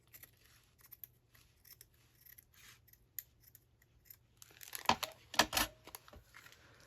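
Scissors snip through a glassine bag for a junk journal, with faint light rustling at first and then a few loud, close cuts and crinkles near the end, with no talk.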